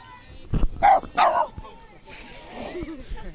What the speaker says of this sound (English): Little dog over here trying to attack me.